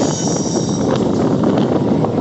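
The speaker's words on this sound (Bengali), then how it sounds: "ট্রেন এখন ঝড়ের গতিতে স্পিড তুলছে" Howrah–Barddhaman chord line local train picking up speed, a loud steady rumble and rushing roar of the moving carriages with wind buffeting the microphone, heard from on board.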